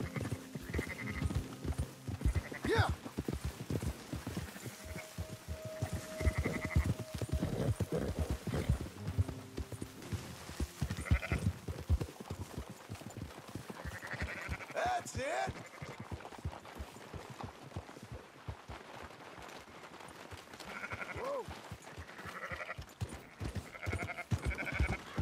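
In the video game Red Dead Redemption 2, sheep bleat intermittently amid steady horse hoof clip-clops and occasional voices, the bleats mid-distance and moderate against the hoofbeats.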